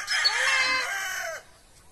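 A rooster crows once, loud and close, a single drawn-out call that rises and falls before dropping into quiet background.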